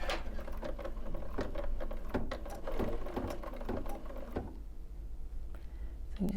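An embroidery sewing machine stitches a tack down line, making a close, rapid mechanical patter with regular clicking needle strokes that run for several seconds before stopping into a quieter hum.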